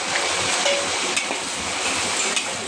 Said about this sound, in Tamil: 400 ml கருவாட்டை போட்டு பொரிச்சு எடுத்துக்குவோம்.